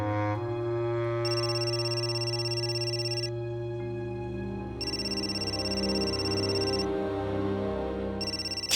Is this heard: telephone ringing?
yes